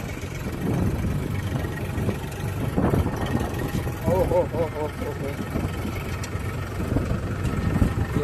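A seven- to eight-year-old Farmtrac tractor with simple steering ploughs a cotton field. The engine drones steadily and fairly close, with a mechanical rattle, and a voice comes through over it.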